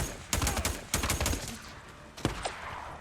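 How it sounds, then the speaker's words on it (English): Shotgun blasts from enemies in the video game Days Gone: a few sharp, loud bursts spaced across a short stretch, each a broad crack with a brief decay, and no talk over them. "those shotguns don't really do very much damage"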